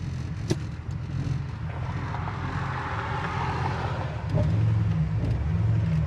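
A 1970 Ford Torino Cobra idles in drive with a steady, close engine rumble. It grows a little louder and fuller near the end, and no one speaks over it.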